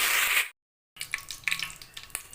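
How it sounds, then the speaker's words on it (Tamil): Curry leaves spluttering in hot oil with mustard seeds and fennel for a Tamil sundakkai tamarind curry, giving a steady close sizzle with sharp crackling pops after a brief silence. "கருவேப்பிலை பொடிஞ்சிருச்சு"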